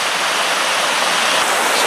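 A small woodland waterfall on Dartmoor cascades steadily, a close, constant hiss of splashing water with no breaks or voices.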